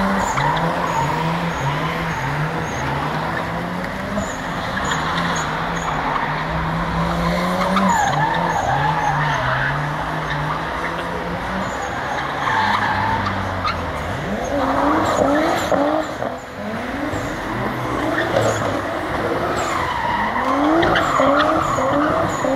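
Cars skidding and drifting in a supermarket car park after closing time, with long wavering tyre squeals and revving engines rising and falling continuously, loud and fairly close, with occasional faint voices underneath.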